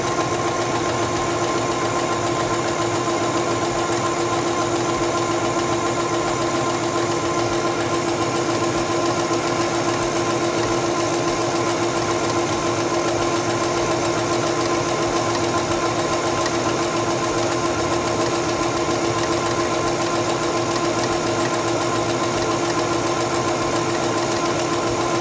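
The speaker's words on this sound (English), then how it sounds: "Place the fabric under the presser foot, lower the presser foot, and begin sewing." A SINGER 7258 computerized sewing machine stitching fabric, a loud continuous mechanical hum and whir that runs steadily and close, without pause, with no voices.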